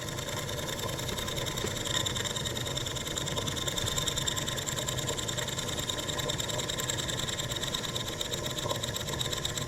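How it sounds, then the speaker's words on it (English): An engine runs steadily with a busy mechanical chatter while loaded by plugged-in canopy lights. The note is faint and constant and drags slightly lower, with no voices. "You guys hear that engine drag down some?"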